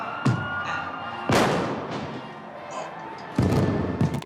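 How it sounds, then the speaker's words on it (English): Fireworks bursting in a 1970s drama film scene, The Godfather Part II, with three sharp loud bangs spaced apart over a crackling, hissing background of festivities. "Look with the fireworks going off."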